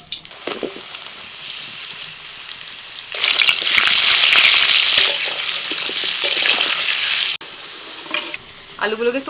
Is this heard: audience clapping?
no